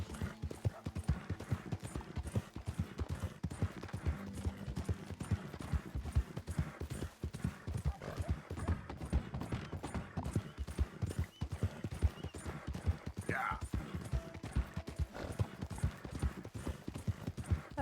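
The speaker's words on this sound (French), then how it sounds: "Allez, on galope, on galope." A horse gallops in Red Dead Redemption II with rapid, steady clip-clop hoofbeats running throughout, close and moderately loud, and a brief whinny partway through.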